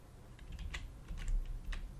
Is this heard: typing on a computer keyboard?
yes